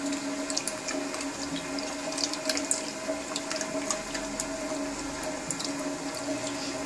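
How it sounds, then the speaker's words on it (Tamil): Lentil cooking water poured into a pot of sambar, giving a steady, continuous watery pouring and splashing sound, close and moderately loud, with no talking. "இப்போ எடுத்து வச்சிருக்கிற பருப்பு தண்ணியை இதில் விடுறேன்"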